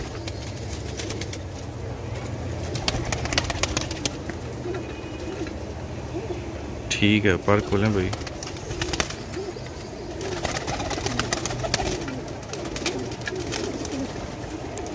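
Pigeons coo softly in the background while someone talks, with a brief burst of wing flapping partway through.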